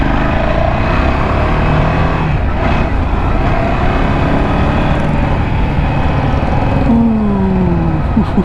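Ducati Scrambler 1100 motorcycle ridden through a city at night, a loud, steady engine drone with wind rush and shifting pitch as it accelerates, continuous throughout.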